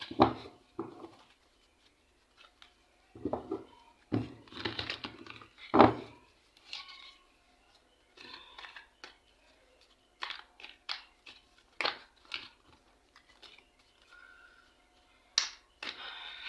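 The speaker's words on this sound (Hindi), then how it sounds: "एक बार थोड़ा सा शफल कर लेती हूँ, ज़रा सा ठीक से।" Tarot cards being shuffled by hand, a series of soft irregular riffling and tapping bursts separated by short pauses, close and fairly quiet with no talk over them.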